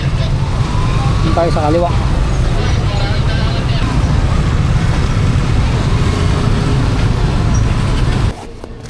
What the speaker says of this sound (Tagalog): Haba na ng traffic.